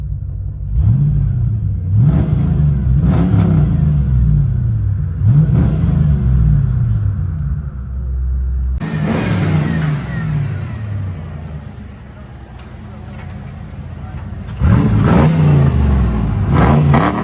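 A 1991 Ford Mustang 5.0 V8 with true dual straight-pipe exhaust rumbles close by, blipping through several sharp revs, then settling into a loud, raw idle before roaring up again near the end.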